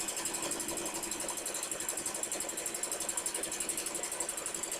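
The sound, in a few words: sewing machine stitching a seam on a Build-a-Bear dress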